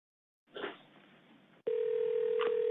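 Playback of a recorded phone call: a burst of line noise, then a steady sustained telephone ringback tone, heard clearly and alone.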